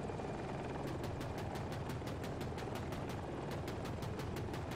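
Loud, continuous helicopter rotor chop from a Ka-520 Super Hokum attack helicopter in a first-person shooter, a dense engine roar with rapid rhythmic blade thumps filling the whole stretch, close and steady with no talk.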